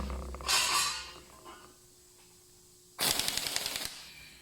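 An air impact wrench with V-style air fittings, running on its lowest power setting, fires a short burst, pauses, then gives a second loud rattling hammering burst of about a second, close up with no talk.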